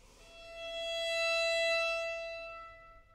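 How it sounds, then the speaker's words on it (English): A single sustained violin note is bowed without vibrato, holding a steady, pure pitch that swells gently in loudness and then fades, played alone. "so without vibrato, then it sounds like this."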